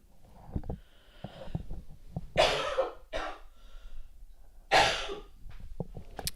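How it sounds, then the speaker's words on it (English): Several harsh, breathy coughs from a sick person, two strong bursts spaced a couple of seconds apart with softer throat sounds and breaths between them, close and alone. "I have just not stopped coughing"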